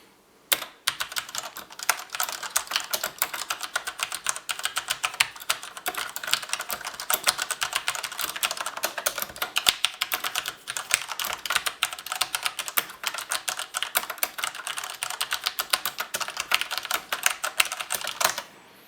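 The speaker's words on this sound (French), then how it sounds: "je teste ici avec des Switch MX Red" Fast, continuous typing on a Corsair Strafe RGB mechanical keyboard with Cherry MX Red switches: dense, close clacking keystrokes with sharp irregular peaks, heard alone for the whole stretch.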